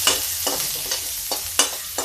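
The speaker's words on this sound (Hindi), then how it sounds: "थोड़ा सा प्याज हल्का सा पक जाना चाहिए" Onion frying in a pan for dhaba-style mixed dal: a low sizzle punctuated by regular spatula scrapes roughly every half second, close and distinct.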